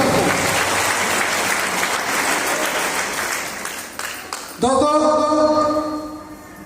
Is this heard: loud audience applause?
yes